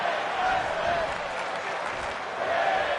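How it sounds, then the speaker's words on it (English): A capacity crowd at a women's pro wrestling show roars and cheers continuously, a dense wash of voices with rising chant-like swells, under faint commentary. "There's a capacity crowd on their feet. Women's wrestling is the chant"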